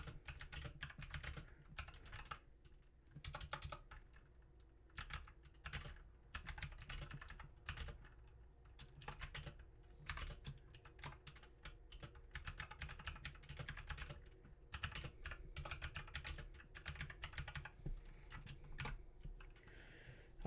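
Quiet, close keystrokes on a computer keyboard come in irregular bursts with short pauses, soft clicks tapping steadily for the whole stretch with no voices.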